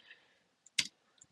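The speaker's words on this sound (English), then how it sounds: "just mucking with my keys on my keyboard" Computer keyboard keys clicked while working in LibreOffice, a single sharp close burst of clicks with a couple of faint ticks before and after, otherwise near silence.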